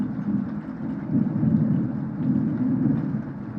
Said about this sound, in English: Let me check if the rain has stopped.